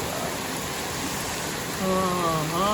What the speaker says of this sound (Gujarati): જુઓ કેવો વરસાદ છે, પવન સાથે 12 વાગે વરસાદ ચાલુ થઈ ગયો.